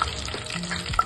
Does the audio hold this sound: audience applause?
no